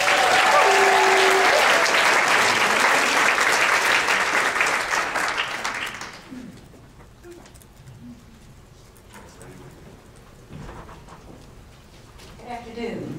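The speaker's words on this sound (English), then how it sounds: "Please give a warm round of applause welcoming Dana." A warm round of applause from a conference audience greets a panel speaker, loud sustained clapping for about six seconds that then dies away into quiet room noise, with scattered movement and faint voices after.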